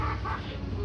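A fighting rooster gives short clucks close by, a brief burst of throaty fowl calls over a busy background with no clear speech.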